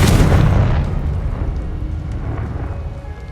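A Confringo blasting spell goes off in Hogwarts Legacy with one loud, close explosive boom that rumbles and slowly fades away, with no voices over it.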